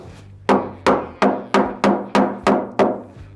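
Eight sharp hammer blows drive a wooden nailer block between floor joists, evenly spaced at a steady rhythm, each a crisp woody thwack with a short ringing decay, close and loud.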